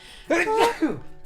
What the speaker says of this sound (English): Oops, I sneezed.